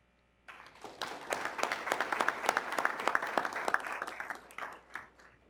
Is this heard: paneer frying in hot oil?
no